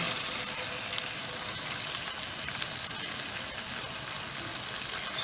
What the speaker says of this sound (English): going to pop it open and we're going to deglaze the pan